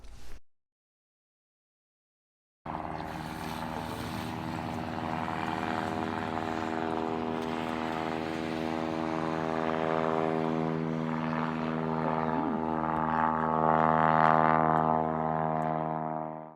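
An aircraft engine warming up on the ground gives a steady, loud, droning hum with a strong tonal buzz. It starts after a couple of seconds of silence and runs continuously with no talk.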